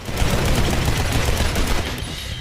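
Rapid sustained gunfire from the video game Legendary, a loud continuous stream of closely spaced shots that rattles on without pause.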